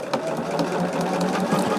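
A sewing machine stitching on a sewing project: a fast, steady mechanical whir and rapid needle chatter, close and loud, running for the whole brief moment with no voices.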